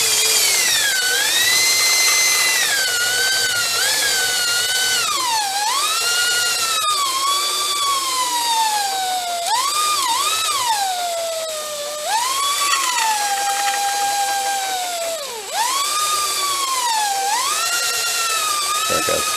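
A restored belt sander runs with a loud high-pitched whine that continuously bends up and down in pitch, steady for nearly twenty seconds.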